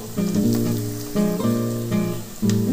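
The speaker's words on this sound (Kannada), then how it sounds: "ಈಗ ಕೊರ್ಬೇವಿನ ಸೊಪ್ಪು ಹಾಕ್ತಾಯಿದ್ದೀನಿ" Chopped onions and curry leaves frying in hot oil, crackling and sizzling loudly in close bursts that swell and fade in waves.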